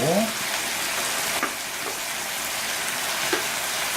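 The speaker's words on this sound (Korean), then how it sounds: "나머지 야채를 다 부어주시면 됩니다. 양파도 버섯도" Onion, mushrooms and other vegetables stir-frying in a pan alongside squid and pork, a steady close, loud sizzle and hiss running unbroken throughout.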